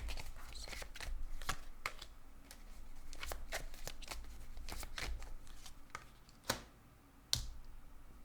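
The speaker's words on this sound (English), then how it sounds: "I'm gonna lay out a few cards" Tarot cards pulled from a deck and laid down one after another in a series of crisp papery flicks and slaps, close and fairly steady, with two sharper snaps near the end.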